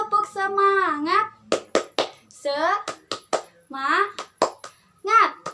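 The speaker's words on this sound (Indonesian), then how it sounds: "Ayo kita coba bersama. Tepuk semangat." Children perform a rhythmic spirit clap (tepuk semangat) in an online class, sharp close hand claps falling in quick patterned groups between chanted children's voices.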